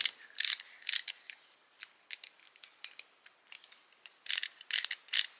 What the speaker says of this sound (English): ratcheting screwdriver